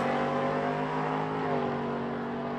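A nostalgia funny car at a drag strip spins its tires, giving a loud, steady engine roar with a sustained high drone that holds throughout and carries no talk.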